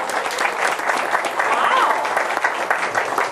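Audience applause at a religious gathering, a continuous crowd clapping with cheers, moderately loud, with voices talking over it.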